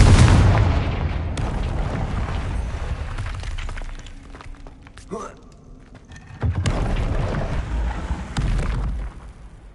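Spell blasts from the Confringo fire spell in the video game Hogwarts Legacy: a loud booming explosion opens, then a brief gap with a sharp crackle before another heavy rumbling burst, with game voices faintly present.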